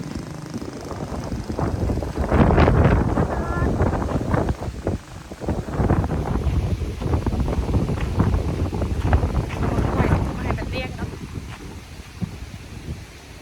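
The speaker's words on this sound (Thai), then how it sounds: "ลมสดๆไปเลย" Outdoor wind buffets the microphone in loud, uneven gusts and rumbles, with faint rustling behind it throughout and no clear talk.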